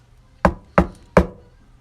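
Three distinct knocks on a wooden farm gate, evenly spaced and close, with sharp hollow attacks and short decays, used as a story sound effect.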